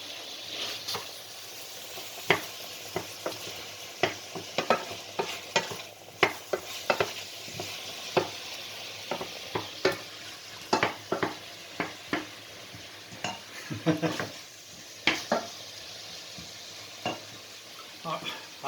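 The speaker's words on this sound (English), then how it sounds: "Onions, garlic and 2 chopped green chilies in there." Onions, garlic and chopped green chilies sizzle steadily in a hot pan for a curry, with frequent close scraping stirs and clinks of a utensil against the pan throughout.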